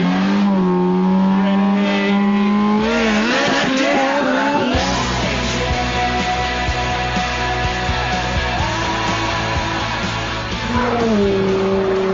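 Ferrari F430 Spider doing a launch-control start: the engine is held at high revs, then surges loud and close as the car pulls away and climbs through the gears, with a brief dip at a gear change.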